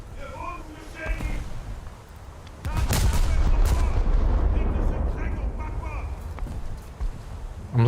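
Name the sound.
battleship gunfire and explosions in World of Warships video game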